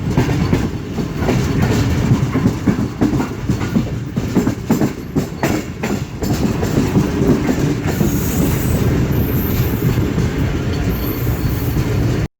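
Train rolling on the up and down tracks between Multan and Khanewal, a loud continuous rumble with rhythmic wheel clatter and occasional squeal, heard close for the whole stretch without talk.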